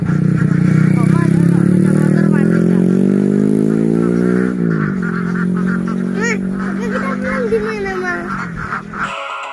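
A motorcycle passes along a rural road near rice fields, its engine droning loud and close with a horn-like tone before fading, while geese or ducks honk and people talk nearby.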